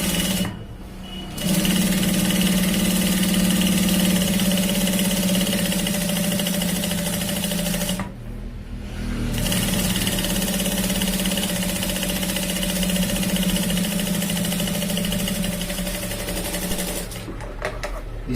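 Sewing machine running steadily while topstitching a boot-style seam near a shirt's shoulder, a loud continuous motor whir with two short pauses and no talking.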